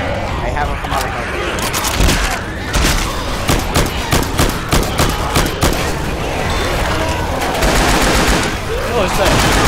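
Machine gun fire in the Left 4 Dead 2 video game comes in rapid, repeated loud bursts with short gaps, and players talk excitedly over the shooting.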